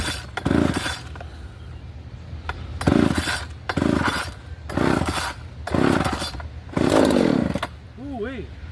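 A Poulan 3800 Timbermaster chainsaw with a 20-inch bar, fitted with new fuel lines and carburetor, revs in five or six loud, close bursts separated by a lower idle, with a brief voice-like sound near the end.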